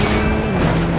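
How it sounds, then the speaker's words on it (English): A crashing boom from an explosion in the PS3 stunt-driving game Stuntman: Ignition, one loud sustained burst lasting about a second with no talk over it. "Close to the explosion."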